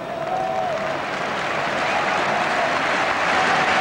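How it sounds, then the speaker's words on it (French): Sustained crowd applause fills Murrayfield rugby stadium during a 1984 Scotland–France match, a dense, steady wash of clapping from a large stadium audience heard at constant loudness throughout, with no clear speech over it. "Sous les applaudissements du public de Murrayfield."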